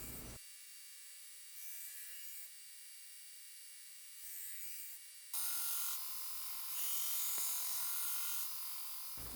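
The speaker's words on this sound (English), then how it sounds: "let's grind these bevels, and then we'll start working out a handle" Abrasive belt grinder grinding the bevels on a stainless steel gyuto chef's knife blade, a steady bright rasping hiss that swells louder partway through and runs continuously without talk.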